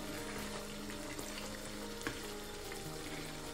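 Capsicum chicken curry frying in a pan while being stirred after garam masala is added, giving a steady low sizzle with a few soft scraping clicks of the spoon, no voices.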